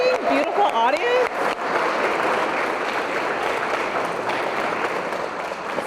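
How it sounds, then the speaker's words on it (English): At a museum of fine arts writers' series event, a speaker's voice briefly opens before an audience breaks into sustained, loud, full-room applause that carries evenly to the end. "Give yourself a round of applause."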